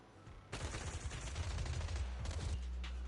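Rapid bursts of video game gunfire crackle continuously after a brief quieter start, dense and sustained like a volley of automatic suppressive marching fire.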